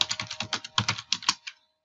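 Quick bursts of keystrokes clatter on a computer keyboard, about a dozen crisp taps in an uneven flurry that stops abruptly, close and alone without talk.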